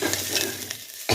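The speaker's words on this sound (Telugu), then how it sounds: "తాలింపు వేగిందండి." Mustard seeds, dried red chillies, green chillies and onion sizzling in hot oil for a tempering, with a steady crackling fry and a spoon stirring the pan, ending in a sharp scrape.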